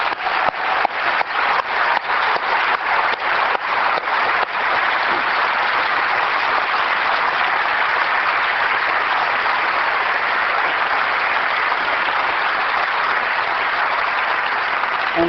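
Sustained applause from a large crowd at a 1999 Apple product event, with a few rhythmic claps standing out early before settling into a steady, even roar of clapping.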